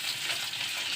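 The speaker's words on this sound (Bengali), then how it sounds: "পেঁপে দিয়ে গোটা জিরে দিয়ে দিলাম, একটু তেজপাতা, গোটা পেঁয়াজ, দুটো কাঁচা লঙ্কা, একটু আদা থেতো দিয়ে ভালো করে এটাকে একটু নেড়ে চেড়ে নেবো" Papaya stir-fries with cumin seeds, bay leaf, whole onion, green chilies and crushed ginger, giving a dense, even sizzle that holds steady throughout with no voice.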